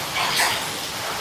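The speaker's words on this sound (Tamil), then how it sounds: "இந்த அப்பார்ட்மெண்ட்டுக்குள்ளே மழை அடிச்சு ஊற்றுது" Heavy rain pouring down around an apartment building, a steady dense hiss of falling water with no distinct drops or voices standing out.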